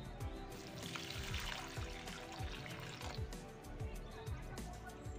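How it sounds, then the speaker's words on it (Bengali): Water poured over a rose plant, a steady trickling and splashing with soft irregular drips, fairly close and moderately loud, continuing without a break. "আর এই গোলাপ গাছটা জল দিয়ে নেব।"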